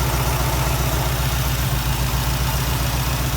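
A Ford Comet car engine idles nearby with a steady, low, throbbing rumble that holds an even pulse throughout, with no voices.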